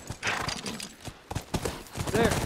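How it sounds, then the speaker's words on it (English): Hooves clip-clop on the ground as a horse moves at pace in The Last of Us Remastered, with a horse's whinny near the end and voices talking over the hoofbeats. "Hell yeah, man. Horse riding."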